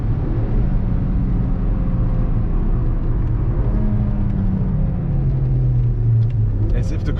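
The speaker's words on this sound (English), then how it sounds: "And even here, full throttle and the car runs like a slot car." A four-cylinder 2023 Mercedes C63 AMG at full throttle with ESP off, a steady loud engine drone and road rumble heard from inside the cabin, pitch shifting slightly, with someone talking over it.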